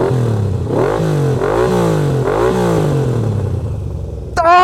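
A Harley-Davidson Pan America motorcycle engine idles fast, around 1,600 RPM, running steadily for several seconds with its pitch rising and falling in slow surges, then a brief clatter at the end.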